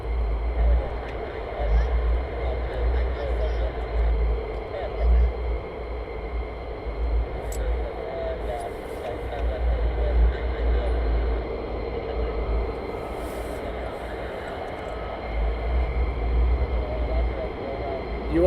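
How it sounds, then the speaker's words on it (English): Military jet engine roar during a touch and go at RAF Lakenheath, a steady, loud, broad rumble sustained throughout with a deep low-end drone. "You wanted a touch and go? You got a touch and go."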